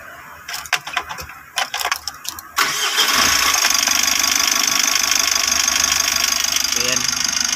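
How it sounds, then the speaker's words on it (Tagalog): A Mitsubishi L300 Euro 4 with its check-engine warning on cranks with a few short bursts, then catches at about two and a half seconds and settles into a loud, steady idle close by, with no one talking over it. "paandarin na natin yung L300 na Euro 4"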